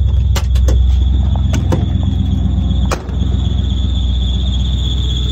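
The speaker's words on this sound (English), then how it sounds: "What does that squeaking noise mean?" Loud, steady squeal from under the hood of a farm truck with the engine running, a continuous high whine over engine rumble lasting throughout, with a brief dip near the middle.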